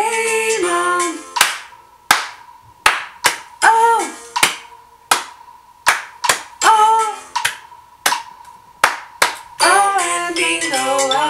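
Hands clap along to the children's Bingo song: sharp, separate claps land in a loose rhythm between bursts of sung melody. The claps are close and crisp and punctuate the singing.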